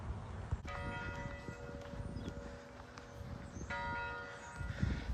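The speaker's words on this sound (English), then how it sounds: "that's the 6 o'clock bell, which means this is my last shot" A church bell rings out the six o'clock hour during an outdoor evening session, its sustained tolling tones repeating with a second strike partway through, heard over steady ambient noise and a few thumps and footsteps.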